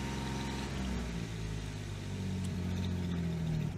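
An old Jeep Wrangler JKU engine runs on three-year-old gas, a quiet, steady low hum like a smooth idle that holds level throughout.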